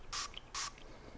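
Two quick hisses from a Nano Ojas spray bottle, each a short burst of fine mist about a third of a second apart, close and fairly faint in a quiet room.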